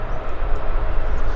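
A WestJet airliner on its takeoff roll at Vancouver airport, a loud, steady broadband jet engine roar that stays close and constant, with no voices.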